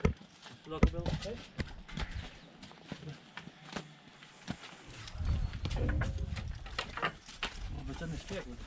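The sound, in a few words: Percheron mare walking, hooves clip-clopping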